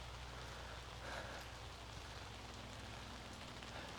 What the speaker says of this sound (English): It's raining. Of course, it's much needed rain.